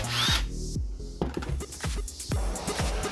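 Short bursts of a power drill whirring and stopping, with scraping and clunking of tools between runs, close by, during brass plating work.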